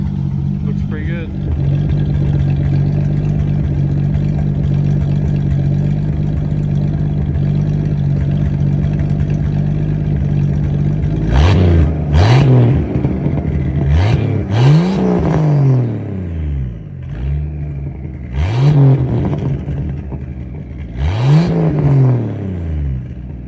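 A turbocharged Chevrolet Nova breathing through a new exhaust idles with a deep steady rumble, then gets blipped in several sharp revs that rise and fall back, loud and close.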